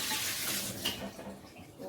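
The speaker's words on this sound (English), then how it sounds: "So then I'm going to dump the water out of here" Water pours steadily from a cooking pot into a sink during shrimp preparation, a continuous splashing, rushing sound that holds close and fairly loud throughout.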